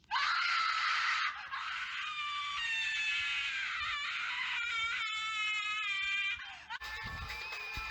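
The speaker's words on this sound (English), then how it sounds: "Spoiler alert, it's a very loud jump scare." A loud, shrill scream blasts out as a jump scare in a strange Sonic mobile video game, sustained and piercing for several seconds with brief breaks and a final harsh burst.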